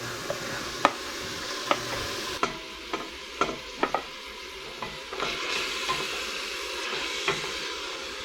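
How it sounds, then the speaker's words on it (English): Onions cooking on high heat with browned meat for chili, giving a continuous sizzle broken by several sharp spoon scrapes and clinks against the pot, close up with no talking. "Now we're just going to add our onions. And we're going to cook them just until they're nice and soft and translucent."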